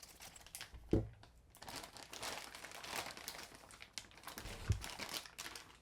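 Plastic packaging around an RC car's wheels and tires is sliced open and crinkled up close, with a couple of soft thumps and a run of brittle rustling and crackling.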